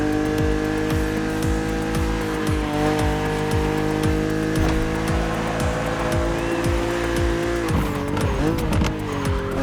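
BMW Z roadster racing in The Crew Motorfest: a steady engine drone with repeated rhythmic gear-shift revs and tire squeal, loud and continuous throughout.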